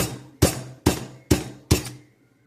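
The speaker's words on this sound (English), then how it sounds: "This is the hammer that you need. You need the needle hammer." A needle hammer strikes a raw beef heart four times in an even rhythm, each blow a sharp, close, wet thud with a faint metallic clink, followed by a short silence.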